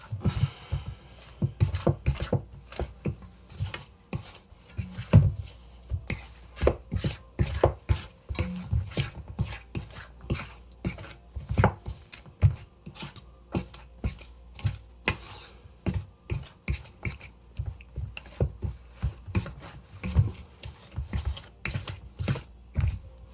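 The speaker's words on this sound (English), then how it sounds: "I'm just mashing the butter in, mixing it in until I get those like pea-sized shapes and it kind of is crumbly" Butter being mashed into flour until crumbly, a close series of irregular soft thuds and clicks from a utensil striking the bowl, steady through the whole stretch with no talking.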